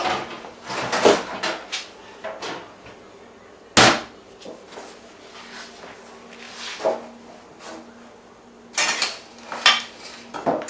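A baking pan is taken out and handled in a home kitchen during biscuit making, with several sharp metallic clanks and clatters spread among quieter rummaging sounds, close by and with no speech.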